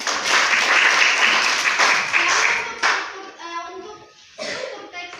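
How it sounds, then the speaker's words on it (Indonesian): Students in a classroom clap for a classmate, a dense burst of hand claps that fades after a few seconds, leaving a teacher's voice and light chatter. "tepuk tangan dulu untuk Ruth."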